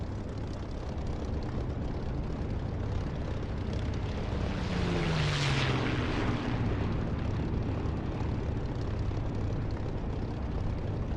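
A warbird aircraft roars past in the DCS flight simulator, a steady engine drone swelling to a loud peak midway and then fading out, with a falling pitch as it passes.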